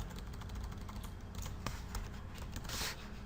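Close-up typing on a computer keyboard while entering an Excel formula: a quick, uneven run of light plastic key clicks with a few sharper taps, steady throughout and with no voices.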